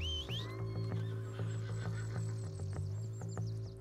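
A horse in the video game Red Dead Redemption 2 whinnies loudly over a low steady hum, with a few clopping hoofbeats scattered underneath.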